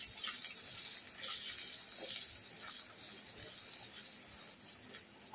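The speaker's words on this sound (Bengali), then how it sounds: "অল্প একটু জল দিয়ে দেবো।" Water added to spices frying in a pan for a liver curry, giving a steady hissing, gushing wash of liquid that runs nearly the whole time at moderate level, with no talk.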